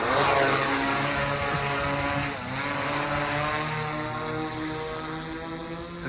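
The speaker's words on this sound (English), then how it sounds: "There we go. Drone initializing." Drone taking off and flying on a cold day outdoors, a loud steady propeller whine and buzz with a slight dip partway, continuous and close throughout with no talk.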